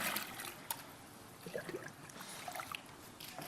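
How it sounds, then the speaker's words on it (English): Filthy water mixed with poo is stirred in a jug, giving soft sloshing and trickling sounds that are quiet and close, with no talk. "Let's just stir that up a little bit."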